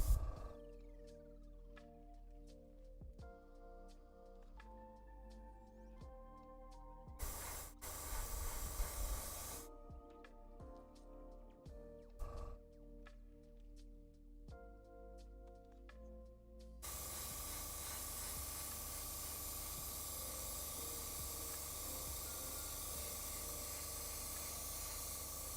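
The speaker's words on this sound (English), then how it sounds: "Just how thin do airbrush coats go on?" Airbrush spraying thinned paint onto a Warhammer 40k knight miniature, a steady broadband hiss running continuously through the second half after earlier quiet stretches with brief bursts, fairly close and alone without talk.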